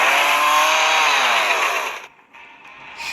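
Chainsaw attack from the Roblox game Anime Power Tycoon: a loud, steady buzzing saw whine that holds for two seconds, then drops away and briefly returns fainter, with no talk.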